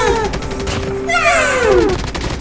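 In a mobile shooting game, a gun fires a steady stream of rapid shots up close, continuing for the whole moment, with a sliding electronic tone running underneath.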